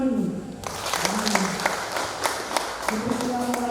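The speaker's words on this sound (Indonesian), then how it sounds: "Tepuk tangan dulu." Guests applaud during a church wedding ceremony after the vows, clapping that rises after a brief spoken opening and continues under voices.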